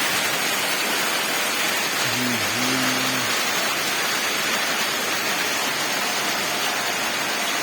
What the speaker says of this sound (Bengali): আজকে এইমাত্র বৃষ্টি নামলো